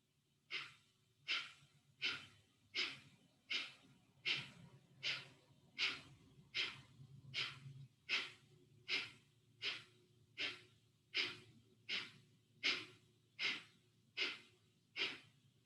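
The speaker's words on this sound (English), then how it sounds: "Kapalabhati breath is an energizing breath" Rhythmic Kapalabhati yoga breathing: about twenty sharp, forceful nasal exhalations in a steady, even pulse, close and moderately loud with short quiet gaps between each puff.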